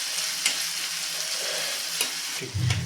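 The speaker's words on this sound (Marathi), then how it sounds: "हिरवी मिरची बारीक चिरून घेतलेली आहे आणि कडीपत्त्याची पाने सर्व एक साधारण मिनिटभर आपल्याला छानपैकी परतून घ्यायचं आहे" Chopped green chili and curry leaves sauté in a pan with a lively sizzle, broken by sharp stirring scrapes and a heavier clatter of the pan near the end.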